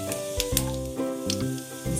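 Cumin seeds hiss and sizzle steadily in hot oil over a medium gas flame, a soft continuous frying sound mixed with a faint tonal hum and a few low thumps.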